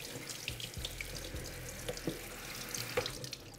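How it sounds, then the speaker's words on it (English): Tap water running steadily into a sink as washed peaches are rinsed free of distilled vinegar, a constant close splash with a few small knocks and drips, no voices. "Next, we're going to rinse all the distilled vinegar off"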